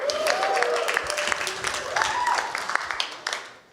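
Comedy club audience clapping and cheering for a couple married 61 years, a lively burst that swells and then thins out, with whoops and scattered voices mixed into the applause.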